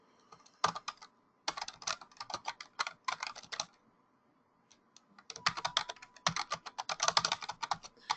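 Bursts of typing on a computer keyboard as a post title is entered, with rapid clustered keystrokes in three runs separated by pauses, close and clear with no voices.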